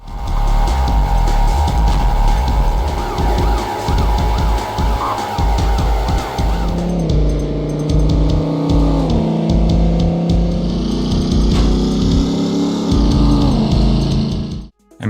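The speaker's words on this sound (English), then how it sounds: "The car's engine sounds have also been updated, so they no longer share the same audio." Racing car engines from a PlayStation demo disc video game: loud, high revving whines that climb and shift pitch through gear changes, continuous and synthetic-sounding, ending abruptly.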